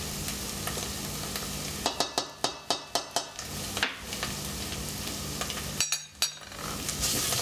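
A spoon scrapes around a pan of frying food after turmeric is added for a Turkish meal, making a rapid run of sharp scraping strokes over a steady low sizzle, then a pause and a few more strokes.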